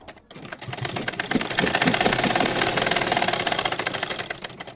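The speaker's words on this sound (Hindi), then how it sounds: "ये भी शोल्डर इसी तरीके से स्टिच कर देंगे" Sewing machine stitching the shoulder seam of a kurti, a rapid continuous mechanical clatter running close and steady after a brief start, with no talk over it.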